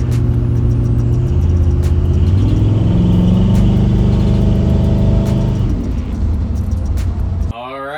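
A 1972 Chevy C-10 pickup with a swapped LS engine idles at its first start, a loud steady close rumble that dips slightly near the end before a brief change in sound.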